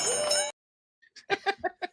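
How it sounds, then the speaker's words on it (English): A bell rings in a bright, sustained burst, then falls silent before a quick series of four or five short, separate dings follows, close and clear with no talking. "Ring the bell."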